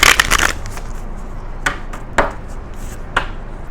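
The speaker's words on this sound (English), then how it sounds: "let's do one more shuffle" Tarot cards being shuffled, a dense burst of papery riffling at the start followed by a few sharp, separate card snaps and flicks spaced across the rest, fairly close and with no talk.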